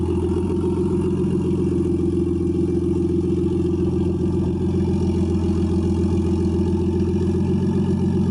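A Nissan S13 with a modified setup idles steadily nearby, producing a loud, continuous low rumble with a slightly lumpy pulse throughout.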